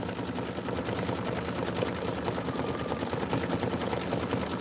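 A sewing machine stitches a petal placement line through felt for an autumn border quilt, running in a steady, fast mechanical chatter at an even level throughout with no pauses.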